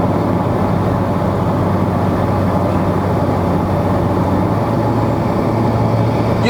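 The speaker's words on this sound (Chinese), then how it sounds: "你踩大油的时候会有那个吸气很大声" Loud, steady engine and intake roar from a modified Stage 3 MK6 VW Golf GTI under hard acceleration, heard from inside the car on a Malaysian road, a continuous dense drone with no voices.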